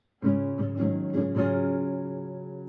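An acoustic guitar strums the chords of a song, four distinct close strokes followed by a long ringing decay.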